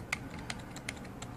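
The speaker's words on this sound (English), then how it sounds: "A membrane keyboard review with rubber dome membrane switches" Close, crisp keystrokes on a Dell SK-8135 keyboard with rubber dome membrane switches, four or five taps at an uneven pace, heard alone without any voices.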